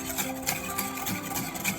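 Whisk stirring heavy cream, cocoa powder, brown sugar, salt and vanilla for hot chocolate in a pot, a busy steady scraping and swishing at close range with no talk.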